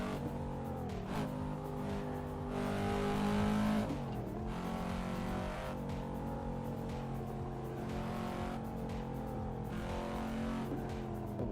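A Volvo engine revving in the driving game Assetto Corsa on Japanese roads, a loud, continuous drone that climbs and dips in pitch as the car accelerates and shifts, with no talking.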